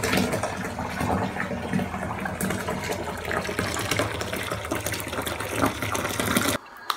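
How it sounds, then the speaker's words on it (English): A bath tap runs into a filling bubble bath, a steady close rush of gushing water that holds evenly before cutting off abruptly near the end. "I'm gonna run myself a lush bubble bath with my bubble bar in unicorn horn."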